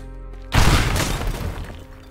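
Video game bomb detonation, a single loud booming blast with a sharp crack and a long crumbling rumble that fades out over about a second and a half, over a faint background tone.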